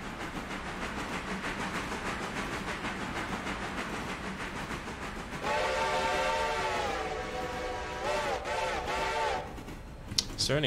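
Steam-style train whistle in a train video game, a sustained layered chord sounding from mid-clip after a stretch of rhythmic rail clatter, then several shorter rising blasts near the end, fairly loud and close.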